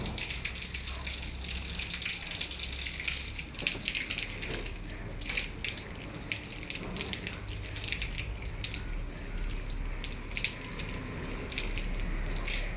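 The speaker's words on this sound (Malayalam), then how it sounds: "നമ്മൾ ചെടിക്ക് വെള്ളം ഒഴിക്കുന്നത്" Water pours from a hose or can onto garden plants, a steady gushing splash that runs continuously at moderate distance with occasional drips and spatters, no one talking.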